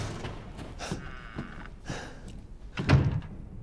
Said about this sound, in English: I heard a door slam over here.